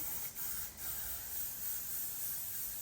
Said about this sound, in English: I am spraying